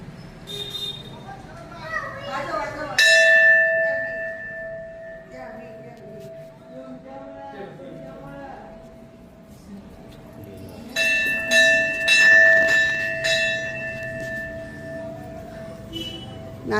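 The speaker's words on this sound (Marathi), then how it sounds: "आर्यन घंटी बजाओ" A temple bell at the Bhairavnath temple struck twice, each time a bright ringing clang that lingers and fades slowly, with children and adults talking around it.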